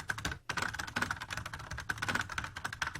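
Rapid typing on a computer keyboard, a dense, irregular run of crisp key clicks heard up close throughout.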